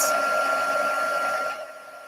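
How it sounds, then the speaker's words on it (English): Steady loud whoosh of a heat gun blowing with a faint high whine, dropping slightly in level near the end. "So I'm just going to heat my gun up now."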